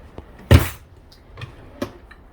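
A silverware drawer in the kitchen of a 2021 Grand Design 3740BH RV is worked, with one sharp, loud knock followed by a few softer clicks and taps.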